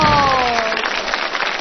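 A studio audience at a Chinese televised talent show applauds to welcome Sun Nan on stage, a brief burst of steady clapping that follows a voice and fills the short moment.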